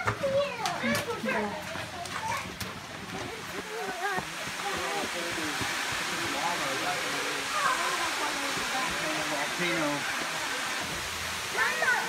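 Silver Creek Falls, a waterfall in an Oregon state park, roars as steady broadband rushing water. The sound stays constant throughout, with children's voices and other people talking layered over it.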